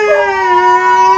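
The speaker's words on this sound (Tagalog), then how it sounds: "umiyak na naman yung aso" A dog cries in a single close, loud, sustained howl with a wavering whine over a quiet background.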